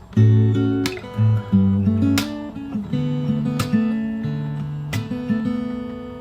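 Two more bars of a song picked fingerstyle on acoustic guitar, a bass note under a lilting melody with hammer-ons and pull-offs, close and solo.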